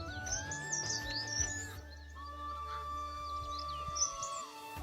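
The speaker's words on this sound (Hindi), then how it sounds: "चिड़ियों की आवाज़ सुनो यार, कितनी प्यारी आ रही है।" Birds chirp and trill on a cold, breezy morning in the Uttarakhand hills. Several bright, scattered calls come and go over a steady low rumble of wind and background hum.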